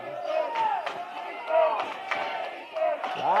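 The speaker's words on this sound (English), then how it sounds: "Loud crowd cheering on the Bruins on the defensive side" Loud basketball crowd cheering on the Bob Jones University Bruins during defensive play in a college game against Johnson University, a sustained roar with rising swells and sharp squeaks and slaps from the court.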